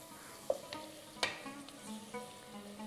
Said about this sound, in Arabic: خلطهم مليح، تخليها تتقلى مليح الطماطم